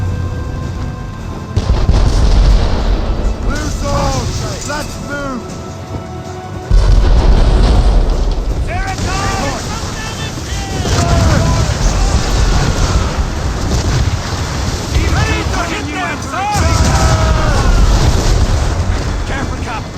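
Heavy booming cannon volleys in a naval battle in the video game Assassin's Creed Rogue, loud deep blasts rolling over wind and sea noise, with shouting voices heard throughout.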